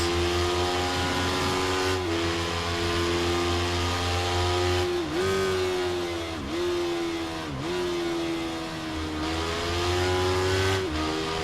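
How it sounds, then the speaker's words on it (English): A high-pitched Honda CBR300R engine in the racing game Ride 3 at Cadwell Park whines steadily, dipping briefly as it shifts gears or brakes, then climbing again, loud and close throughout. "you could definitely hear the difference in the engine note"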